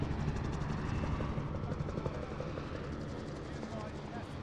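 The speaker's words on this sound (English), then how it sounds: "Oh, I'm already too late for that chopper." A helicopter in a video game drones with a dense, steady rotor chop at moderate distance, a continuous rumbling wash throughout.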